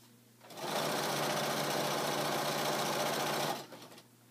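A sewing machine stitches a pillowcase seam with a quarter-inch presser foot, running as one steady, loud, continuous whir of close mechanical chatter for about three seconds before stopping, with no talk.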